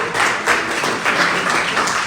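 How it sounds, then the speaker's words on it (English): Audience applause at a ceilidh, a steady dense patter of many hands clapping together, fairly close and loud, continuing throughout with no talking over it. "I'm going to make you clap again."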